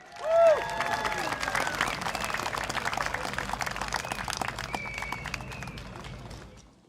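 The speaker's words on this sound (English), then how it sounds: "Can we give a round of applause for Jufri from Sembawang GRC, please?" Applause and cheering from a large crowd at a political rally in a stadium swell quickly, then hold as steady clapping with a few whistles before slowly fading.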